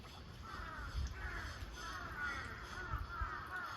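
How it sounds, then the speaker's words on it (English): Crows caw repeatedly in the distance over a quiet outdoor background hum at Hisaizu Shrine in Iwatsuki, Japan. "カラスです、カラス。"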